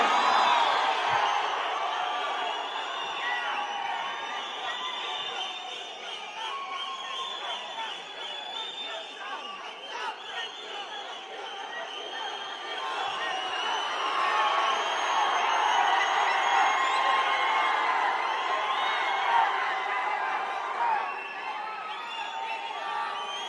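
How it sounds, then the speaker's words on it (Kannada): A large audience at a Kannada film event cheers, whoops and claps steadily throughout, a dense, loud wash of crowd noise that rises slightly toward the end. "ಬಲ್ಲಿ ಜೋರ ಚಪ್ಪಾಳೆ ಕಿಚ್ಚ ಸುದೀಪ್ ಸರ್ ಅವರಿಗೆ"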